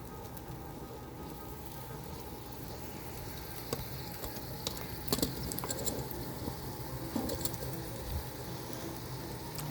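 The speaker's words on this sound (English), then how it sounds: "So now it's frying." A bean-filled, folded corn tortilla for tacos dorados sizzles steadily in a hot pan, with scattered crackles and pops over the constant frying hiss.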